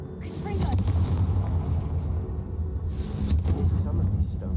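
A Confringo fire spell blast in the video game Hogwarts Legacy, a sustained rumbling explosive roar with a second burst partway through, with a voice over the blast.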